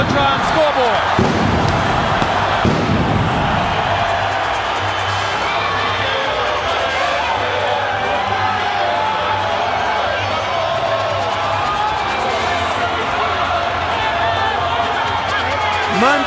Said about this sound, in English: The crowd in the arena has been watching his entrance brewing on the Jumbotron scoreboard.